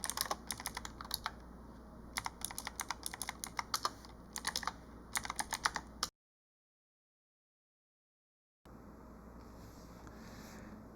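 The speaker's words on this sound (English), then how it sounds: "typing the following command" Quick bursts of keyboard typing clatter close by, in clustered runs of keystrokes, then silence before a faint hum resumes.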